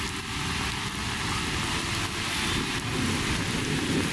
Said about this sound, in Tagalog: kumukulog siya